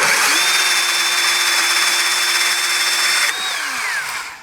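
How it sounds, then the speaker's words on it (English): A power cutter slices through threaded rod studding, a loud steady high-pitched whine with a grinding edge that holds throughout, then drops in pitch and winds down as the cut finishes. "You can even just sit the blade directly on it and then just start cutting like this."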